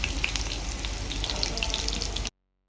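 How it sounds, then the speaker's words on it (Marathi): Crushed garlic sautéing in a pan for spicy tomato chutney, a dense, even sizzle that holds steady and loud before cutting off abruptly. "आता यामध्ये आपल्याला हा ठेचलेला लसूण घालायचा आहे, तोही छान असा परतवून घ्यायचा."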